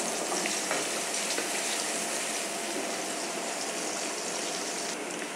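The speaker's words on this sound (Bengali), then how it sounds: "দেখুন আমার পেঁয়াজটা ভাজা হয়ে গেছে।" Onions fry in hot oil in a pan for a pointed gourd curry, giving a loud, steady, close hiss of sizzling that runs without a break.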